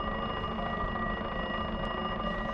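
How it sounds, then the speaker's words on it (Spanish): A telephone rings with a steady electronic tone that holds without a break, moderately loud against a quiet indoor background. "escuchó sonar el teléfono"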